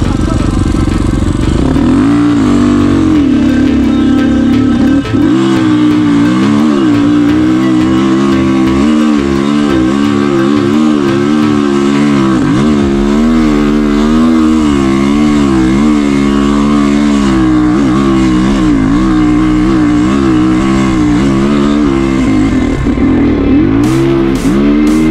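An enduro motorcycle on ordinary Chinese tires climbs a mountain trail in Dagestan, its engine loud and close, droning and revving in shifting pitch for the whole stretch as it labors uphill.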